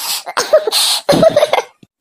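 An elderly grandmother character in an Assamese cartoon has a loud, close coughing fit: several harsh, hacking bursts in quick, uneven succession that trail off into a short final cough.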